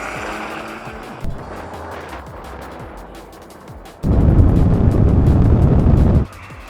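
A BMW 430d and BMW M4, both in their sportier settings, run a rolling drag race. Engine and road roar builds, then surges loud for about two seconds as the cars pass before fading.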